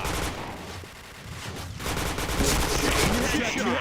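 Gunfire from a shooter video game comes as a rapid, dense burst of shots, briefly easing off before heavier firing resumes, with the sound fairly faint overall.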